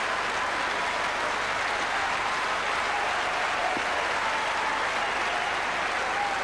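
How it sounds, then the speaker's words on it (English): A centre court tennis crowd at a 2005 mixed doubles match breaks into sustained, loud applause that holds steady for the whole stretch, dense and uninterrupted, with no talk over it. "Great reaction from the centre court crowd."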